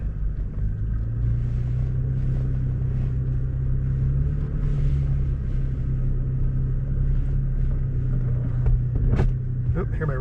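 A car reverses slowly up a dirt track at a park, its steady low engine rumble filling the cabin close up, with a brief sharp sound near the end.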